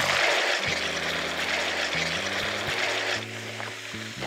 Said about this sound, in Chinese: 我们往锅里加入适量的清水